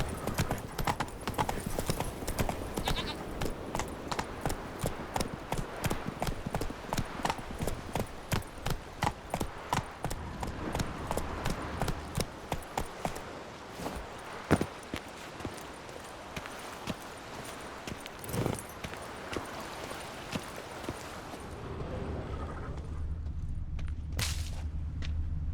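Horse hooves beat a steady, fast rhythm in The Witcher 3 video game. The galloping is close and dominant and goes on for about twenty seconds before it stops, leaving quieter ambience.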